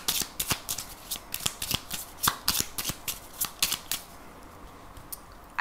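A 32-card deck of playing cards being shuffled and cut, a steady run of crisp riffling snaps at close range, tapering off near the end, with no talking.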